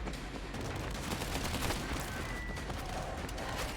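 Constant gunfire in World War Z: Aftermath, a dense, unbroken wash of rapid shots from several guns that stays steady and loud throughout.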